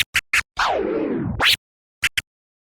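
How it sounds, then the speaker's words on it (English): Several short sharp scratch bursts, then a long slow warbling record scratch dragged forward and snapped back, followed by two more quick scratches and silence. "how long you're going to go forward with the slow scratch before you pull it back"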